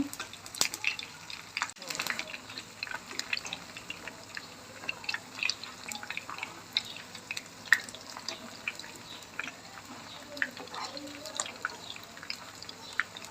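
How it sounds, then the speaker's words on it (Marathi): Batter-coated paneer deep fries in oil, with soft scattered crackles and small pops over a faint, quiet bubbling bed, sounding fairly close. No one speaks. "आता आपण हे पनीर डीप फ्राय करून घेऊया"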